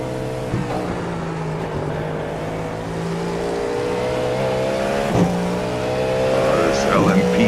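An LMP2 Le Mans prototype race car engine drones steadily in a racing game, holding a sustained tonal whine that climbs slightly over several seconds, with brief shifts and faint chatter in the background.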